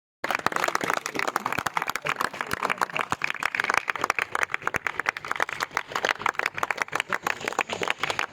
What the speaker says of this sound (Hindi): मैं चाहूंगा उनके लिए भी जोरदार तालियां बजाएं